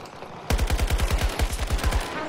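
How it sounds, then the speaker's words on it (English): Full-auto gunfire from a gun in Battlefield 2042, a rapid burst of about a dozen loud, close shots in an even rhythm that starts abruptly after a half-second of quiet background. "And why does it keep pausing while it's firing? Like, it's hiccuping during full auto fire."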